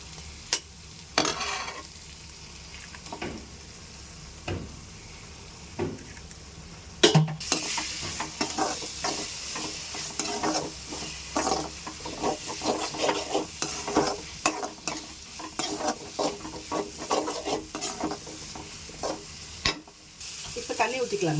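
Steady sizzling of egg frying in a pan, with scraping spatula strokes and clinks of a utensil against metal throughout.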